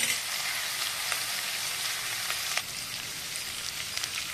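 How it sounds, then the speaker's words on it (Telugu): Curry leaves and green chili paste fry in a pan of hot oil for a bottle gourd and chana dal curry, giving a loud, steady, close sizzle with small crackles and no talking. "సో దీంట్లో కొంచెం కరివేపాకు వేస్తున్నాం. మంచిగా వేగనిద్దాము."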